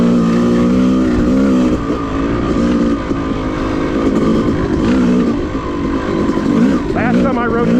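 Yamaha YZ250 two-stroke dirt bike riding a wooded OHV trail, a loud buzzing engine held close and steady the whole time with small throttle changes and a rise at the end.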